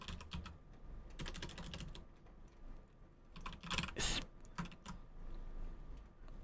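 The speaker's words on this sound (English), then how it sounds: "I'm just typing in." Bursts of rapid keyboard clicking, close by, coming in short flurries separated by brief pauses.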